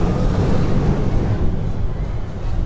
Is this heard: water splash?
yes